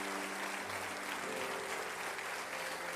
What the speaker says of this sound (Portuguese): aplaudam bem forte ao Senhor nessa noite